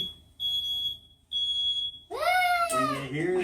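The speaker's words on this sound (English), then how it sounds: "It smells smoke and that's no joke when you hear that beep, beep, beep." A smoke alarm sounds two clear, sharp high-pitched beeps in a row, followed by a voice singing over it.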